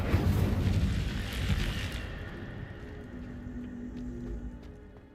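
An Incendio fire spell in the game Hogwarts Legacy bursts with a loud roaring whoosh that fades over several seconds, leaving a faint rumbling tail.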